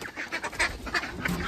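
Several ducks quack in short, repeated bursts at close range, fairly faint, with no speech over them.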